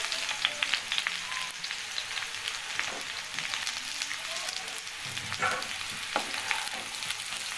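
Eggplant pieces and browned potatoes frying in hot oil in a pan: a dense, continuous sizzle with occasional stirring scrapes, close and loud throughout, no talk.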